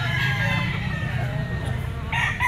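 A gamefowl rooster, a possum sweater bullstag, crows loudly and close at a backyard breeder's yard, one sustained crow running through the whole moment.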